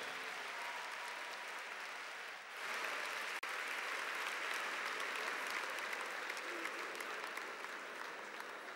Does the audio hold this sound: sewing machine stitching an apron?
no